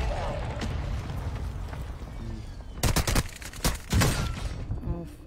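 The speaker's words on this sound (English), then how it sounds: "Friendly mortar strike inbound." Mortar strike explosions in an online shooter game, a cluster of sharp blasts and rumbling booms landing in quick succession partway through, loud and close under excited voices talking over game noise.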